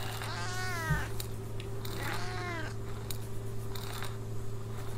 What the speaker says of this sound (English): Oh, Marta's cat!